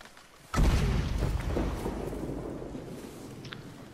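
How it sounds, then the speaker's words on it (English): Lit dynamite detonates in the open-world western game Red Dead Redemption 2, one sudden deep boom followed by a long rumbling decay that fades over several seconds, with faint game ambience underneath. "I tried to shoot the dynamite"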